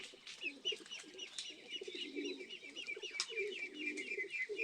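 Racing pigeons cooing at the loft during a training flight in La Paz, Tarlac, a steady overlapping chorus of soft burbling coos at moderate distance.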